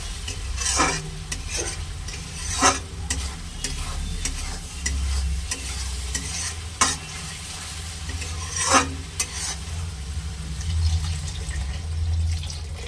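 Spice paste for a snakehead fish curry sautéing in a pan, a constant sizzle broken by repeated sharp scraping stirs at an irregular rhythm, close and clear with no speech.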